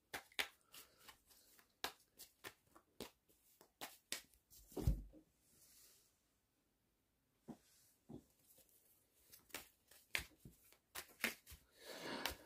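A deck of playing cards being shuffled by hand, a series of sharp riffling bursts and flicks in irregular rhythm, close up, with a brief quiet pause midway.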